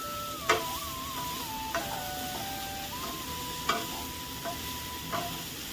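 Soya chunks coated with ginger and garlic roast over a high flame in a pan, giving a steady low sizzle broken by a few sharp scraping stirs and clinks, close and fairly quiet with no talking.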